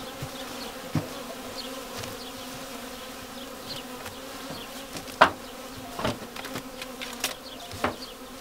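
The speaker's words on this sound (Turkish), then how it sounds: "Bir de oğul verdiği için şu anda sinirli arı." Honeybees buzz around an opened hive, agitated after swarming, giving a constant drone with sharp, brief bee passes close to the ear.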